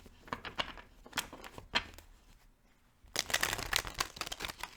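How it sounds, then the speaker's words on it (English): A tarot deck shuffled by hand at close range: scattered soft card slaps and riffles, a brief lull, then a denser, louder burst of rapid shuffling near the end, with no talking. "Let's shuffle these."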